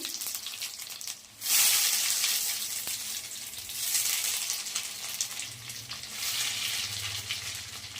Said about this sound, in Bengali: আমি কিন্তু খুব লো আঁচে রান্না করছি, ভাজছি